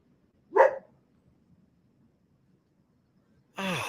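Two dogs at an ocean beach, giving one short bark near the start and another louder bark or yelp at the end, separated by near silence.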